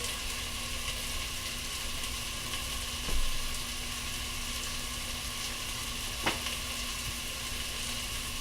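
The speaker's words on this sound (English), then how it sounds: "Now the meat, I want to brown a little bit. So I'm going to put it in now." Meat seasoned with salt and pepper browns in a pan with a continuous, even sizzle, steady and fairly close, with a couple of faint clicks breaking the hiss and no voices.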